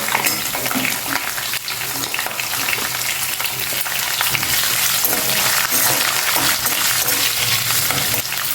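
Curry leaves, chopped ginger, green chillies and onions hit hot oil while making ragi upma, producing a loud, dense, continuous frying hiss with occasional stirring scrapes.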